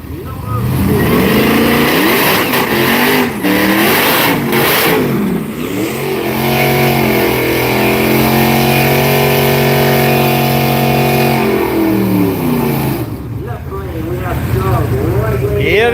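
Hemi drag race cars accelerate down the strip at Orlando Speed World, engines roaring loud and close with rising and falling pitch as they rev and pull away, the roar dominating the whole stretch.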